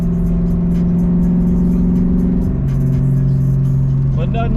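A Ford Mustang with the 1996 4.6 DOHC V8 drives along steadily, a loud, continuous engine drone with a pitch shift midway, heard from close inside.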